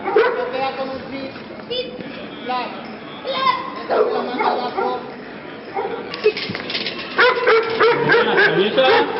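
Dog at a canine exhibition gives several short barks and yips mixed with whimpers, close and fairly loud, heard over ongoing talk from people nearby.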